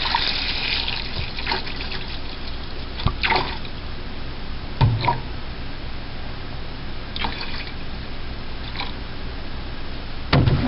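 Milk is poured into a pot, about half a gallon of 2% milk, giving a steady liquid trickle with a few louder splashing pulses near the pot, no voices.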